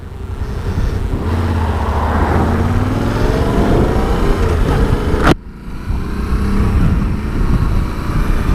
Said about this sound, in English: Yeah, lovely sound to this bike.